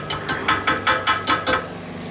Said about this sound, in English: we're going to start hammering the pin into the caliper